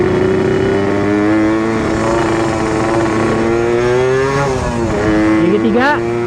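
A Suzuki Satria two-stroke motorcycle with a ported and drilled piston rides on a busy road. Its engine drones loudly up through the gears in rising, buzzing sweeps, and a rider's voice talks over the riding noise.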